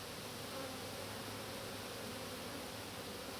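Honey bees buzz in a dense, unbroken hum during a summer hive inspection, close and steady throughout.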